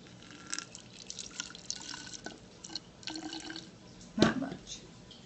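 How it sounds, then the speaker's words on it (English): Organic herbal shampoo is poured a little at a time into an empty bottle, producing soft, close trickling and dripping with a brief louder splash near the end, all fairly quiet. "I'm going to pour just a little bit in."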